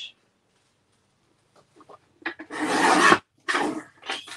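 Paper card being cut for cardmaking, with a few faint scrapes followed by a long raspy slicing stroke and a shorter second stroke, close and crisp against near silence.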